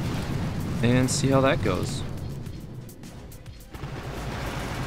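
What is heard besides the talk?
artillery barrage explosions in Boom Beach video game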